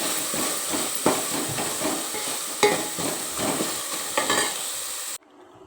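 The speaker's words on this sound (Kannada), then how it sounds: "ಹೀಗೆ ಚೆನ್ನಾಗಿ ಎಣ್ಣೆಯಲ್ಲಿ ಅದು ಈರುಳ್ಳಿ ಕೆಂಪಗಾಗಬೇಕು" Onions with a pinch of turmeric frying in oil, a constant close sizzle and hiss with occasional stirring scrapes and clinks, then it suddenly drops away near the end.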